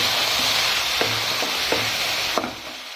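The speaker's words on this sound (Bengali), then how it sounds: "এখন দিয়ে দিব সরষাটাকে দিয়ে আবার ভেজে নেব সুন্দরভাবে" Onion frying with mustard in a pan, giving a loud, continuous close sizzle with a few soft, evenly spaced stirring knocks.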